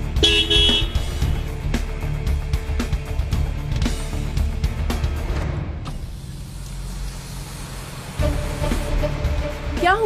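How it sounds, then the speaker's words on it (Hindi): Car horns sounding in a street scene from an Urdu-dubbed drama, several tonal honks at the start and another toot near the end over engine rumble and clattering traffic, with voices underneath. "मुझे हॉर्न दे रहा है"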